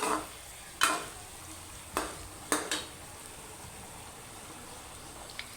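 Okra and onions sizzle softly in a pan while a spoon stirs them, giving four sharp scrapes and knocks against the pan over a quiet, steady frying hiss.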